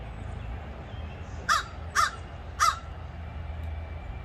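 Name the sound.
raven squawking up in a tree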